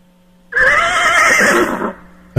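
A horse lets out one loud, close whinny lasting over a second, with a wavering, trembling pitch that cuts off sharply.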